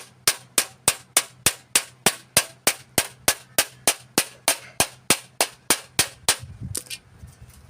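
Hammer tapping metal during an electric ride-on mower conversion: about twenty sharp, evenly spaced metallic strikes in a steady rhythm, loud and close, then a brief clattering handling noise at the end.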